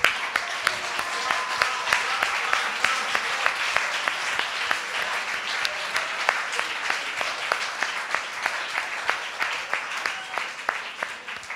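Congregation applauding during a French-language church service, a steady, dense wash of clapping with sharp individual claps standing out throughout, sustained and fairly near without fading.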